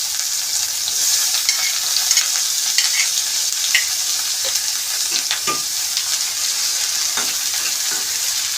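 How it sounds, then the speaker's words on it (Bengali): Chopped onions fry loudly in a pan, a constant bright hiss and sizzle broken by scraping and clinking as a spoon stirs them, with no one talking. "পেঁয়াজ কুচিটাকে একটু হালকা ব্রাউন করে নেব।"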